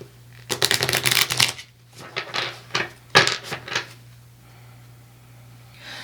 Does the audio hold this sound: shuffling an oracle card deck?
yes